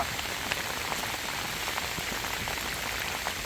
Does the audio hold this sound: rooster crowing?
no